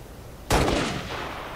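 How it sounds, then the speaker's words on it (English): A single sharp marksman rifle gunshot in a video game cracks out loud and close, followed by a short fading echo tail. "it is a marksman weapon. Good for long distance shooting"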